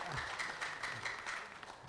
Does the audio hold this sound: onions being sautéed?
no